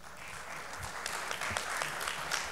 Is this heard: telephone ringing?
no